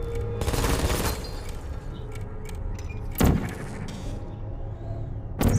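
Turret gunfire in the video game Portal, bursts of rapid shots in a few short volleys separated by quieter mechanical game sounds, loud and close.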